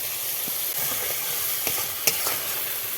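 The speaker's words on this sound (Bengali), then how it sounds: "সামান্য একটু ভালো করে কষিয়ে নিব দিয়ে দেবো টমেটো পেস্ট" Spices and tomato paste sizzle steadily in a hot pan while being stirred, a continuous close hiss broken by a few sharp crackles and scraping stir sounds, with no talk.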